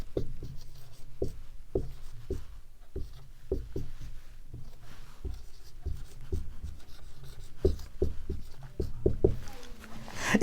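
Chalk or marker strokes on a classroom board during a Class 10 science lesson: a steady run of short scratchy taps across the whole stretch, fairly close and clear, with no talking over them.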